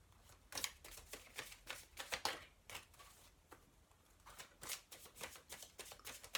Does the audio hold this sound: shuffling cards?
yes